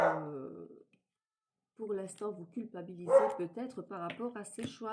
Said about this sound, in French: il y a mon chien qui aboie